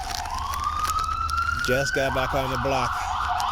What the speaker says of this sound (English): They started using the ambulance.